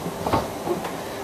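A New York subway A train running along the track, with a steady low rumble and a couple of soft clacks over about a second, at moderate loudness and with no voices.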